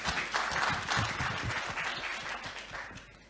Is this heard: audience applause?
yes